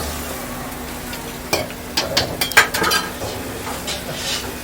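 Tomatoes frying and stirred in a pan, a steady sizzle with a cluster of sharp clinks and scrapes of a utensil against the pan in the middle, then a softer bubbling fry.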